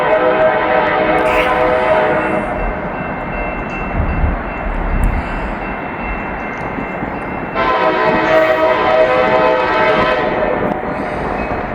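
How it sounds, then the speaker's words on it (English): A loaded coal train rolls past close by, its horn sounding in steady blasts near the start and again toward the end over a constant heavy rumble of wheels and cars. "we got a coal train coming down the line"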